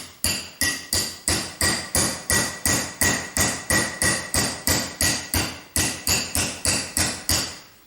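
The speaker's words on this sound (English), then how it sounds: "Little tiny hammer, don't go beating hard." Rapid, even metallic taps of a small hammer tapping a sleeve into a valve, about three per second, close and sharp, continuing steadily without talk.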